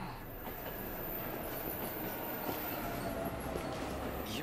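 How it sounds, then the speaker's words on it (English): A train at a station in 13 Sentinels: Aegis Rim gives a steady low rumble and faint rhythmic clatter, with a thin high tone running above it and no voices. "The train's already here, so I'm gonna go."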